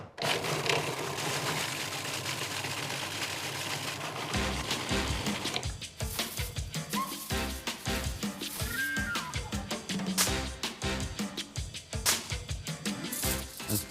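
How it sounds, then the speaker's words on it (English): A blender blitzes a pork taco marinade of vinegar and salt, its motor whirring loud and close, first steady, then turning choppier and more uneven as the contents churn, with no talking. "2 good handfuls of salt, ready to blend."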